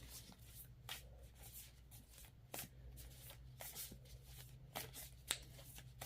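Tarot cards are shuffled by hand in repeated riffling bursts with soft papery slaps, close but quiet, over a low steady room hum with no talking.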